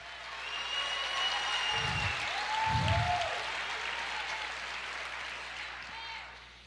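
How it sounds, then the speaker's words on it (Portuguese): A church congregation applauds the Lord during a Portuguese-language sermon, sustained clapping of moderate loudness filling the whole stretch, with faint voices and shouts rising through it. "Aplauda o Senhor"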